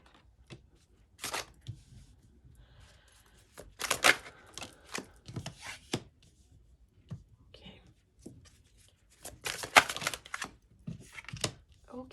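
Tarot cards are shuffled and riffled in quick papery bursts, close and crisp, coming in clustered flurries separated by quiet pauses, with a soft voice murmuring now and then.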